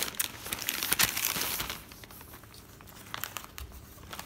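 Paper packaging on a parcel sent from Poland is torn open and unwrapped close by, with dense crinkling and tearing that is loudest early on and then settles into quieter rustles.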